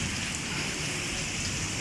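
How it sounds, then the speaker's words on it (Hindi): Torrential rain pours down in Karachi as a dense, continuous hiss of drops on surfaces, steady and enveloping with no voices. "बट अब हम बारिश को एंजॉय कर रहे हैं क्लाउडी वेदर के अंदर।"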